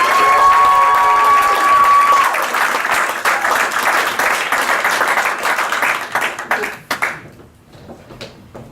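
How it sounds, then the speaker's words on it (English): Theater audience applauds a stand-up comedian taking the stage, loud sustained clapping with some cheering and a brief musical tone at first, then tapering to a few scattered claps near the end. "please give a big round of applause for Tim Hanlon"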